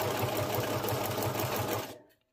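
A sewing machine stitches through candy corn packaging for a junk journal cover, a fast, even rattling whir heard close up that runs steadily and then stops abruptly near the end, with no talk.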